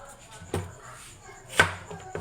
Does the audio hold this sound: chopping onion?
yes